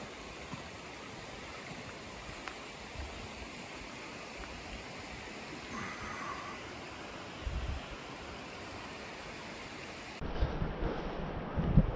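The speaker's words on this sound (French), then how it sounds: "Là, c'est une grande cascade" Continuous broadband roar of rushing water, steady and fairly loud throughout, like a big waterfall heard from nearby at the Cirque de Gavarnie, with a slight shift near the end.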